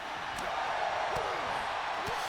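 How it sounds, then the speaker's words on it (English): A roaring arena crowd in the WWE 2K24 wrestling video game during a Cedric Alexander versus Roman Reigns match, a dense, steady wall of cheering noise with faint thuds from the ring under it. "And this crowd has erupted."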